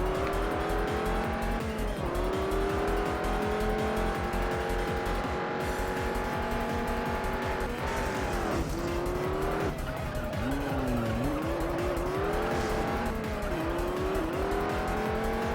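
A car in the Juiced racing game scrapes along a wall, a steady loud engine drone with squealing, grinding scrape over continuous racing noise, no talk.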